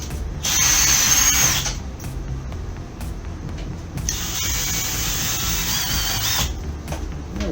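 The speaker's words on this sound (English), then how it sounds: "you're doing the cordless drill" A cordless drill backs screws out of an RV air conditioner housing, two bursts of whining motor noise, the first about a second long, the second longer, with a low rumble between.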